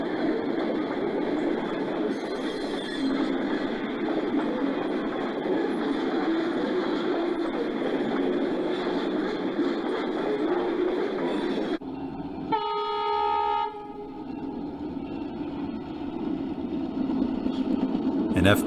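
A model train on a layout rumbles past steadily for a long stretch, with a brief multi-tone horn blast partway through, then the rolling noise continues.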